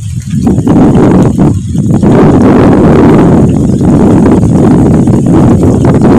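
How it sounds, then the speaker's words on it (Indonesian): Strong wind in a high mountain village among large rocks buffets the microphone with loud, continuous gusty roaring rumble throughout. "Pemandangannya banyak angin"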